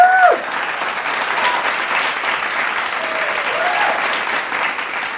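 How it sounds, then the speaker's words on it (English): Steady, dense applause from an audience at a poetry evening fills the space, a continuous wash of many hands clapping at even loudness for several seconds after a brief higher tone at the start. "Give yourselves a big round of applause for being here and supporting us for a year."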